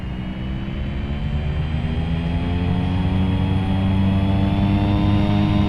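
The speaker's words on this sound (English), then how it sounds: "Takeoff power set." A light aircraft's engine holds takeoff power on the runway at Bakersfield, a loud, steady, close droning roar whose pitch rises gradually as the run builds.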